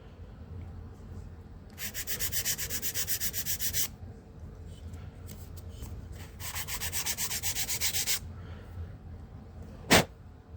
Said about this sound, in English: I'm going to run the sander up and down here a little bit